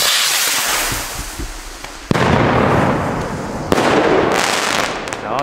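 The last firework of a mixed amateur fireworks show, a weakened battery, fires a series of crackling bursts with two sharp louder pops, each followed by fizzing crackle, heard from nearby.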